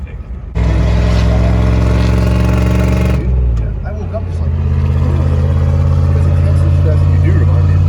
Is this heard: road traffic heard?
yes